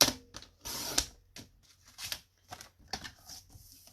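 White cardstock being cut with scissors for a stamped card, a run of crisp snipping and rustling strokes, close and fairly quiet, with short bursts separated by brief pauses.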